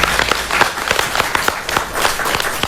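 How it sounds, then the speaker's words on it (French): An audience applauds a young robotics inventor from Niger, loud close clapping with distinct individual hand claps in a quick uneven rhythm over a few seconds. "Vous pouvez l'applaudir s'il vous plaît?"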